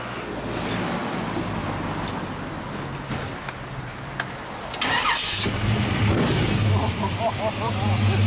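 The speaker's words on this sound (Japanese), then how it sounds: "エンジンかけてもらえる？" A 1969 Chevrolet Camaro 350 SS engine cranks and catches, then idles and revs with a low rumble, while people talk nearby before and during the start.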